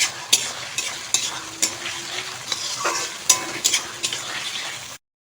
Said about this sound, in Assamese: আদা, নহৰু, জিৰা এইখিনি অকণমান ভাজিলোঁ